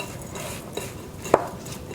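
Hands mixing shredded cabbage for sauerkraut in a bowl, a soft rustling, squelching stir with a couple of light clinks against the bowl, close and quiet.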